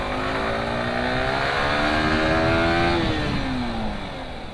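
A Yamaha R15M motorcycle accelerates hard past a bus, its engine note climbing steadily in pitch before dropping at a gear change, heard up close over constant loud wind and road noise with no talking.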